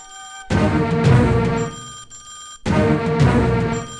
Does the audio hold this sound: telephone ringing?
yes